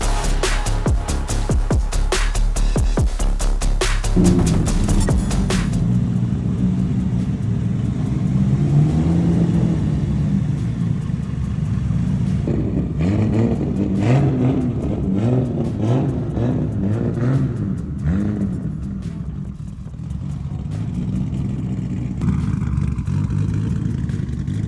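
An RB-powered Toyota Supra engine revs hard at first, then settles into a lower, uneven running note with a few blips, fairly close and with no talking.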